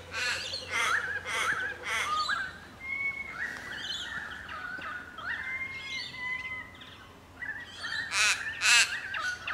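Birds sing on a walk in Mullum Mullum Park, with a busy mix of whistles, trills and sharp chirps from several birds at varying distances and no talk.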